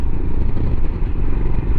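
Royal Enfield Himalayan motorcycle engine on an evening ride, a steady loud thrumming drone mixed with wind rumble, continuous and close throughout.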